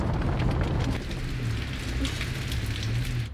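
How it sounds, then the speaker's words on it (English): Heavy rain pours down in a dense, continuous hiss and patter, loud and close, with no break across the short stretch. "Dang, it's raining hard now."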